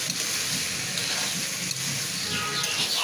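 Rice and lentils frying for bhoger khichuri, a continuous close sizzle and hiss with faint scraping as the mixture is stirred, no voices.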